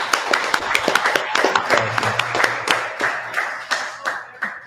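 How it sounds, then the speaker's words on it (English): Audience at a STEM expo clapping steadily, dense overlapping hand claps filling the room, moderately loud with a low hum underneath. "Let's clap it up for you first."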